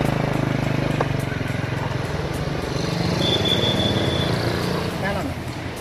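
An ojek motorcycle engine runs steadily and close up, its low throbbing drone continuing throughout with voices talking over it.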